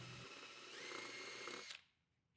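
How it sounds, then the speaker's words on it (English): A power drill with a 3/8 inch bit whirs steadily at close range for under two seconds, drilling a hole, rising slightly in pitch, then stops abruptly, leaving faint room noise. "Now you can drill those two holes using a 3/8 inch drill bit."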